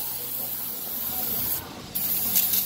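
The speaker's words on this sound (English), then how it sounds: "I'd recommend a little bit of brake cleaner just to get the stuff off" Brake cleaner sprayed onto a Toyota Tacoma disc brake makes a loud steady aerosol hiss, briefly stopping, then resuming in short close bursts.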